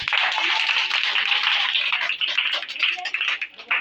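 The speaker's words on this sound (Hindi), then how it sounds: "आप लोग तालियां जरूर लगाएं" Steady, dense clapping from an audience at a Children's Day gathering at a coaching centre, filling the space evenly and then tapering with a few final claps.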